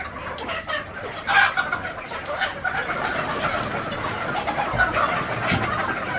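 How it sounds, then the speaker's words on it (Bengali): Three-month-old Egyptian Fayoumi chickens cluck continuously and close by, a busy overlapping flock with louder bursts over steady background chatter. "ধরেন ধরেন, ওই যে মুরগি বের হয়ে যা,"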